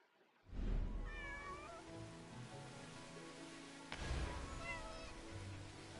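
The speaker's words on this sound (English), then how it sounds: "Oh, that's the same cat." A cat in the video game Where Winds Meet meows repeatedly, a few clear drawn-out calls over a steady rain-like ambience, with a brief sharp click midway.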